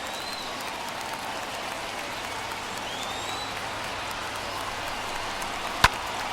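A modest baseball crowd in the video game MLB The Show 21 cheers on its feet during a Dodgers at Padres game, a steady, diffuse roar of noise with one sharp crack near the end.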